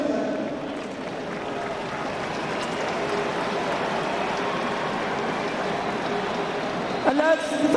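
Rain falls steadily at a stadium during a Gaelic football final, a soft continuous hiss that carries throughout with a brief louder burst near the end.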